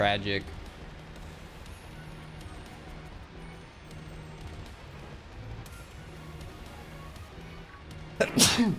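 A single sharp sneeze bursts out near the end, loud and close, after a stretch of steady background noise and low hum, with a person talking briefly.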